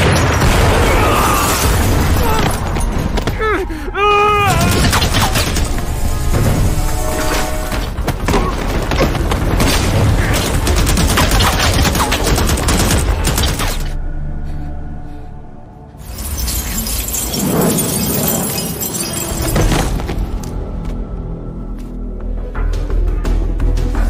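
Gunfire and sniper shots ring out in a movie battle scene against terrorists, loud booming and sharp bursts packed densely under a dramatic score, with a brief lull midway before the firing resumes.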